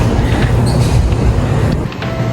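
A metro train in Malaysia rumbles close by, a steady low roar of wheels and carriage noise running throughout with faint rail hiss above.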